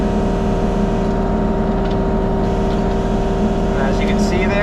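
A Kubota KX033-4 mini excavator with a Rotastar RS2-4 screening bucket screens dirt, its diesel engine droning loud and steady with a constant mechanical hum and faint rattles on top.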